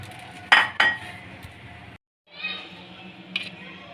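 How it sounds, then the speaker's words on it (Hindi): Fried chicken pota pieces are dropped into a clay pot, giving two sharp clinks of contact followed by softer clattering and rustling after a brief pause. "ये जितने भी मैंने पोटे फ्राई किए हैं मट्टी की हंडिया में डाल देंगे।"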